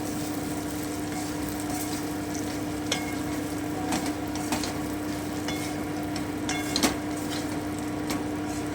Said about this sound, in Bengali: এবারে আমি ভেজে রাখা ওলকপি আর আলুটা দিয়ে দিচ্ছি একটু নেড়ে নিচ্ছি